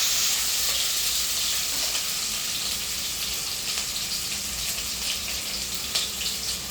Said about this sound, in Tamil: இது க்ரீன் சில்லி, கருவேப்பிலை, சிறிய பூண்டு, ஆனியன் எல்லாம் நல்லா வதக்குறேன்.